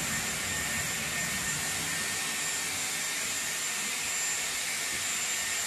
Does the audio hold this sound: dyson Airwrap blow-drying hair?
yes